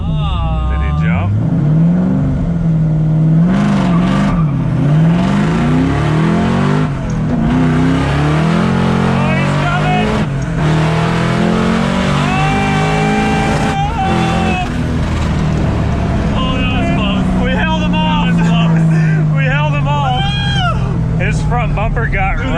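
A Cadillac CTS-V wagon or a GT500-swapped police car races and accelerates hard, its loud engine climbing through rising revs in third gear until it bangs against the rev limiter, with excited voices talking over the roaring exhaust throughout.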